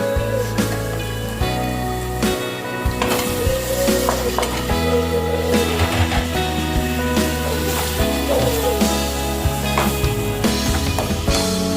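Onions and tomatoes sauté in a pan for a Tamil chicken curry, a steady sizzle with occasional stirring scrapes running beneath prominent background music.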